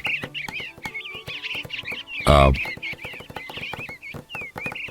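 Birds chirp and twitter busily at close range, with one loud harsh squawk cutting through the middle.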